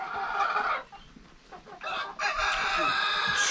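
Chickens cluck in a busy run as a rooster crows, with several calls layered and overlapping at close range over a steady farmyard background.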